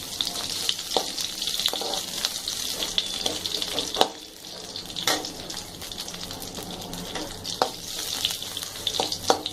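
Garlic frying in a pan for a ponnanganni greens dish gives a close, crackling sizzle that carries on throughout, with a scrape from stirring now and then and a few light utensil clinks.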